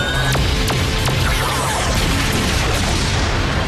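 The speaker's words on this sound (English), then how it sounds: "Blast it into space dust. Super Mega Cannon!" A loud, dense energy blast from the Super Mega Cannon in the Power Rangers Super Megaforce show, a continuous roaring wash of effects with a few sharp crackling bursts early on and no talking.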